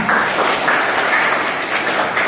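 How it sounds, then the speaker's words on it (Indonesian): A burst of applause from a group, dense, continuous clapping that swells in slight waves, with no one talking over it. "Beri tepuk tangan."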